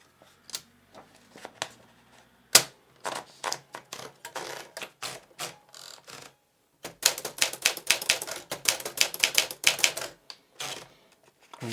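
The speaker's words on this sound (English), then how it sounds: "Finally, I will be typing on an uncoated A4 paper" Typewriter keys strike uncoated 80 GSM A4 paper in quick irregular bursts, with pauses between runs, followed by a denser, faster stretch of clacking up close.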